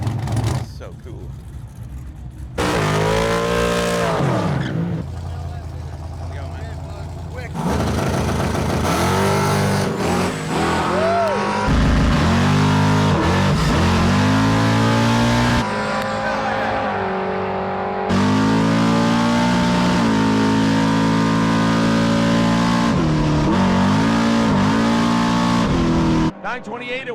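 A race car accelerates hard down a drag strip, its engine roaring loud and near through repeated gear changes over nearly half a minute, with voices talking over the engine noise.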